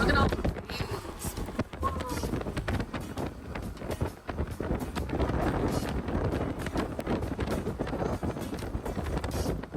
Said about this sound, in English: rainy and windy out there.